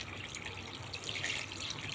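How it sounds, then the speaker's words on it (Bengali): Water pours steadily into a pot of chhanar bora curry with potatoes. The splashing trickle is soft, close and unbroken for a couple of seconds. "এবার আমি জল দিয়ে দেবো।"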